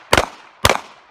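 Two sharp, loud pistol shots about half a second apart during a fast-draw firearms training drill on a range, each a close crack with a short ringing tail and quiet between them.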